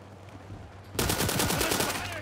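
Beryl rifle firing in the shooter World War 3, a sudden loud burst of rapid automatic shots cutting in after a quiet moment and rattling on near and steady for over a second.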